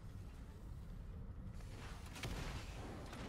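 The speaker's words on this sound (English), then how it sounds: "I hear explosions." Explosions rumble in the Evolve Stage 2 video game during a Torvald match, a dull, continuous low roar that surges louder partway through, faint and distant with no talk over it.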